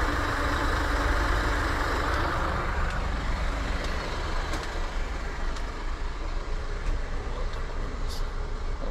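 Long-distance coach idling at Phuket bus terminal in Thailand, a loud, steady low engine rumble close by, with faint beeps and background noise.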